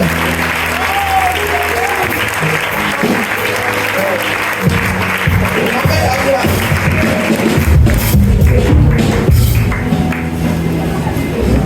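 Congregation applauding in a church service to acclaim God, a dense, steady wash of clapping throughout with some voices and cheering mixed in, swelling louder toward the end.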